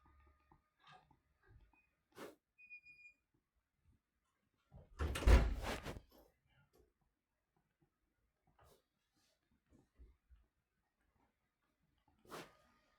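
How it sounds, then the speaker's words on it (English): A classroom door swings shut with one solid thud and rattle midway through, in an otherwise quiet room with a few faint knocks and shuffles. "Oh, Jacob, can you actually close the door?"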